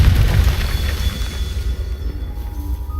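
A Confringo spell explosion in the Hogwarts Legacy video game: a deep, loud rumbling boom that hits at once, then fades into a lingering low roar with no voices.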